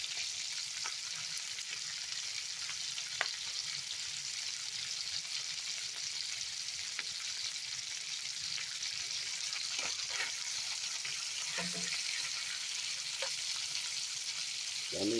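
Lamb chops charring in a pan with parsley and rosemary, a steady, fairly quiet sizzle and crackle with a few sharp pops and faint scraping.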